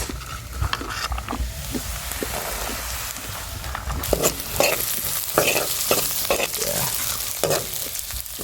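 Onions and beans fry in butter in a wok for homemade vegetarian burgers, with a continuous close sizzle broken by repeated scraping and stirring strokes of a spatula against the pan.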